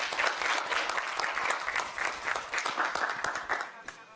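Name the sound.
applause welcoming the speaker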